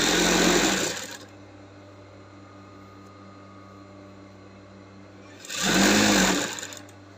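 Sewing machine stitching the casing of a pleated yoke gown: two loud bursts of fast, steady motor whirring, one at the start and one near the end, with a quieter hum in between.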